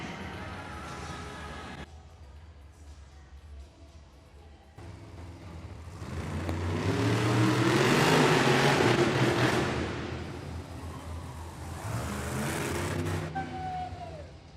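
A Monster Jam monster truck engine at a freestyle event in Hamilton, Ontario, rumbling and then surging into a long, loud rev that swells and fades, heard from a distance in an arena amid crowd noise.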